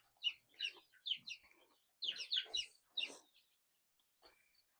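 Chickens clucking in a quick run of close, bright calls, a pause, then another burst of clucks, with one softer cluck near the end.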